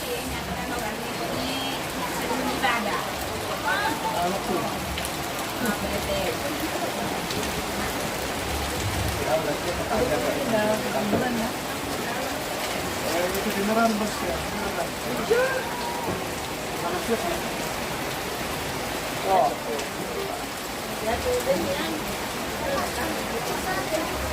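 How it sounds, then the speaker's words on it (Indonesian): Steady, heavy rain pouring down and pattering on surfaces, a dense continuous hiss with no break throughout. "Hujan guys"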